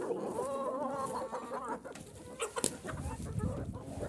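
Hens and roosters inside a chicken coop cluck and call in a busy overlapping chorus, with sharp squawks and a brief crow-like cry, close and fairly loud throughout.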